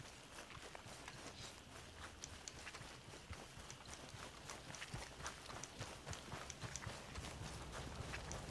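Horse hooves in Red Dead Redemption 2, a steady quick clip-clop of a running horse, faint beneath a continuous broadband background noise.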